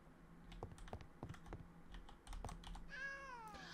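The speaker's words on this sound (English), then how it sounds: "A cat wandered into your tavern." In the tavern-management video game Travellers Rest, a cat gives a single short, rising meow near the end, following a run of quiet, irregular clicks from a computer keyboard.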